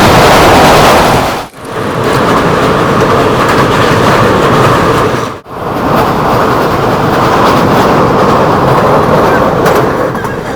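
The 15547 Raxaul–LTT Mumbai Antyodaya Express passenger train runs on rails with loud, continuous rumbling and rattling, broken by two brief dips.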